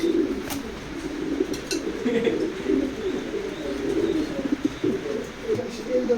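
Racing pigeons in a loft coo in low, rolling murmurs that repeat and overlap, with a few brief chirps above them and a voice talking faintly in the background.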